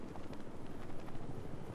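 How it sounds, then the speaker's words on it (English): Steady pulsing rotor thump of a helicopter in the Batman: Arkham Knight video game, a continuous moderately loud drone with no speech. "Can't even keep up with the helicopter."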